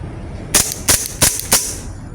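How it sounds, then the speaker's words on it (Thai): WE M92 gas blowback BB pistol emptying its magazine outdoors on a hot day, four sharp cracking shots about a third of a second apart, loud and close over steady background hiss, the slide locking back after the last. "ทดสอบยิงหมดแม็กนะครับ"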